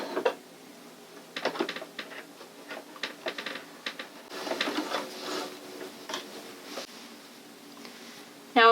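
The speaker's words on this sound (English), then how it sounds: "And just sew a few stitches over where you began. And I'm going to lock my stitches in place." A Janome sewing machine stitches a seam in short bursts, quiet rapid needle chatter starting and stopping several times, with a longer run in the middle and a sharp clunk at the very end.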